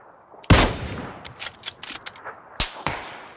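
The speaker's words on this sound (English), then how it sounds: "How did none of those shots hit him?" Gunfire in the shooter game PUBG: a loud close shot opens, followed by scattered fainter shots and metallic clinks, then another sharp nearby report near the end.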